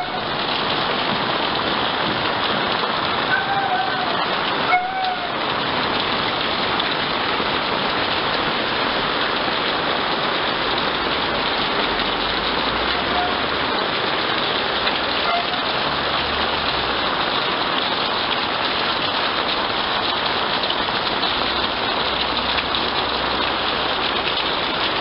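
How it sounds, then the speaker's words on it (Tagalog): Heavy rain pours down continuously on a house, a dense, loud hiss of drops drumming on surfaces, steady throughout with no voices. "Mama, malakas ang ulan"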